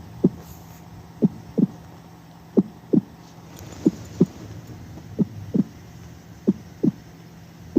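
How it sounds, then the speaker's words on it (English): A slow, steady heartbeat heard as if through a chest, soft paired thumps repeating about once a second against a quiet low hum, with no talk. "You continue listening to his heartbeat"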